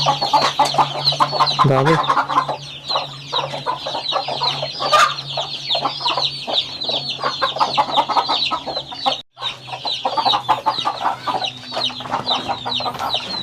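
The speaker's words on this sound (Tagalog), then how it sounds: "Ito naman Rhode Island na tandang." Rhode Island Red hens and a rooster on a poultry farm cluck steadily and densely, a busy flock close by with a constant chorus of calls, while someone talks briefly over them.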